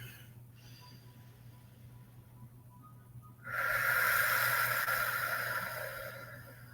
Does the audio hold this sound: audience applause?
no